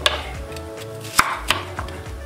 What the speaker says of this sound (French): On doit découper en gros julienne.